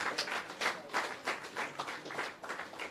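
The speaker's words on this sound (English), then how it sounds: "please give the commander another round of applause." An audience applauds a commander at the launch of the restored Holland Bamboo Scenic Avenue, with steady clapping at a moderate, even level throughout and no talk over it.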